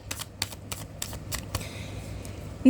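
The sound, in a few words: shuffling tarot cards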